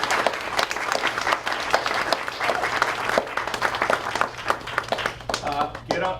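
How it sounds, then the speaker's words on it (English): Round of applause from an audience at a Woodstock typewriter trail event, steady close clapping throughout, with a voice starting to speak as it tapers off at the end. "So give a final round of applause for Jett and"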